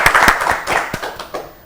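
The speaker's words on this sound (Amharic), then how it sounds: "ለመና አጨብጭቡላት" Children and a studio audience clap for a young contestant on an Ethiopian children's TV quiz show, giving a brief burst of fairly loud, irregular hand claps close by that thins out quickly.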